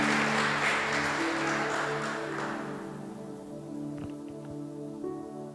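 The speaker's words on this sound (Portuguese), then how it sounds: "Dê uma salva de palmas para Jesus." Church congregation applauding during a Portuguese-language sermon, a dense broadband wash of clapping that starts loud and thins out over several seconds, with a sustained organ or keyboard chord beneath.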